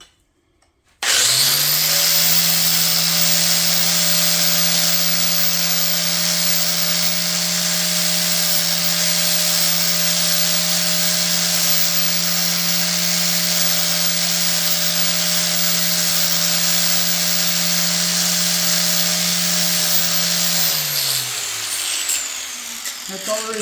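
A 4.5-inch angle grinder fitted with a worn flap wheel smooths sharp metal edges, running as a loud, steady high whine for about twenty seconds before winding down, with no voices over it.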